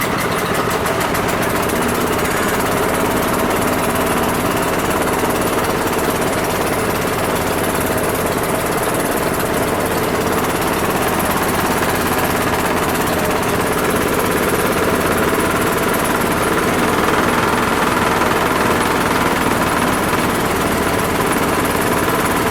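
A small engine idling after a cold start in freezing, below-zero weather, with a steady loud mechanical drone and knocking that runs continuously with no pauses and no voices.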